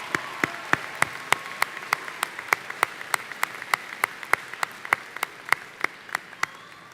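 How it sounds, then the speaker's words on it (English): At a university commencement ceremony, sharp, evenly spaced claps ring out one after another in a steady slow rhythm for several seconds, distinct and fairly close with little else around them. "How about one more round of applause for our graduates from College of Liberal Arts and Sciences?"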